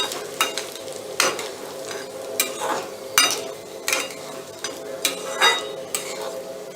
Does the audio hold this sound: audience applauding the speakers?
no